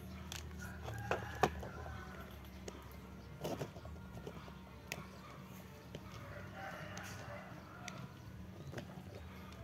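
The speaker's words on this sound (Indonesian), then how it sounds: "sambil mendengar suara ayam dan suara burung karena ini di halaman belakang teman-teman suasana masih asri" Chickens and other birds in a leafy backyard, faint scattered clucks and a rooster's crow with occasional chirps at a distance over a low steady background hum.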